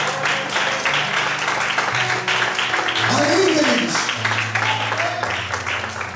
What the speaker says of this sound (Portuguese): Você pode aplaudir o Senhor mais forte.